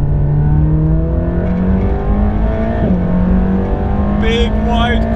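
Loud in-cabin engine of a Mercedes-AMG GT Black Series on a racetrack, revving steadily with rising pitch through the gears and a brief shift mid-pull, dominating the whole stretch.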